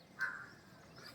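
A single crow gives one brief, faint caw from a little distance over a quiet background.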